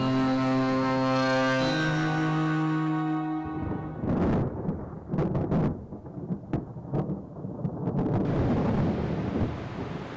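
In a Vietnamese TV drama, a sustained musical tone is followed by heavy thunder that rumbles and cracks in several loud bursts as a storm approaches, ahead of rain.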